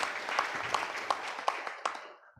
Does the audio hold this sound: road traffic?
no